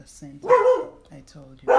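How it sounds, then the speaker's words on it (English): A pet dog barks a few sharp times close by, overlapping a woman's speech in a home setting. "Sorry about my dog."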